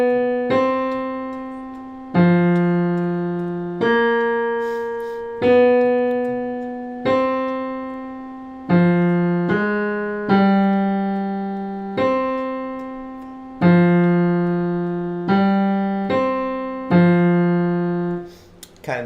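Walking jazz bass line, played as a solo line of plucked, evenly spaced notes with each tone decaying before the next, about a dozen notes in a steady swinging pulse.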